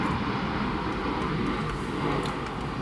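Airplane flying overhead, a steady broad engine drone, loud and continuous, with no talking.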